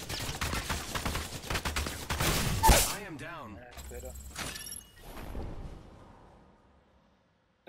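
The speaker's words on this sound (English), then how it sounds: "I am taking fire, friends." Gunfire in the battle royale shooter Apex Legends, with a dense rattle of rapid shots and impacts over the first few seconds, then mechanical game effects trailing off into quiet as a voice speaks.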